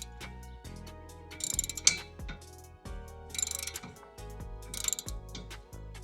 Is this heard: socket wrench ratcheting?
yes